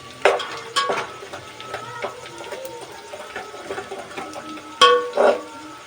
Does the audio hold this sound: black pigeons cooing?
no